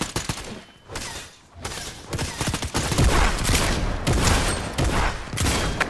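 Rapid bursts of gunfire fill a video game match, loud and close, with shots firing in quick clusters over continuous rattling battle noise.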